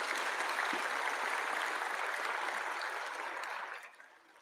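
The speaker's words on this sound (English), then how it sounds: "Let's give a huge round of applause again for these Brighter Mind kids." Audience applause for a group of Brighter Minds children at a youth celebration in Hyderabad: a dense, steady wash of many hands clapping at a hall-filling volume, tapering off at the end.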